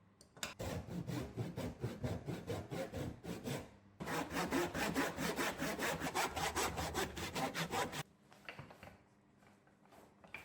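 Hand saw making stop cuts into a wooden block for a mallet, rapid rhythmic back-and-forth rasping strokes in two long close runs, then a few softer, slower strokes.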